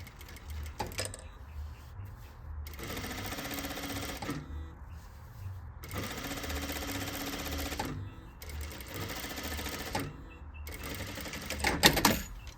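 A sewing machine top-stitches the pocket of an elastic-waist circle skirt, running in four steady bursts of rapid mechanical stitching separated by short pauses, with a brief louder clatter near the end.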